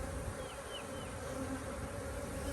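Honeybees flying around a hive entrance in an apiary, a dense continuous buzz of many wings close by, with individual bees briefly passing nearer, no voices.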